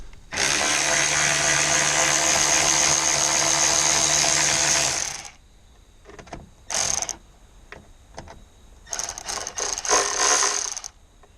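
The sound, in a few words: ratchet with 11mm deep socket loosening bolt on tow mirror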